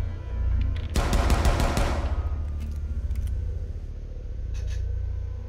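Rapid burst of automatic gunfire in Rainbow Six Siege, a dense rattle of close shots lasting about a second over steady game background hum, followed by a few faint scattered clicks.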